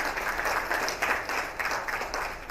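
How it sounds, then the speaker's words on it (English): Audience at a public presentation and book launch applauds a guest, a soft, fairly distant wash of clapping with gentle swells, no talk over it. "Please, another round of applause for him."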